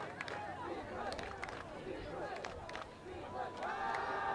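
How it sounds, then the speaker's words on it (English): Spectators at a high school football game chant in rhythm from the stands, a loud, pulsing mass of voices with whistle-like cheers over it, while an announcer talks close by. "Crowd chanting for defense here."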